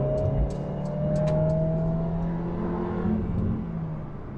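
A 2020 Mercedes-Benz A220 4Matic accelerates in a steady rising engine drone with a whine climbing in pitch, heard close from inside, with a few faint clicks and no talking.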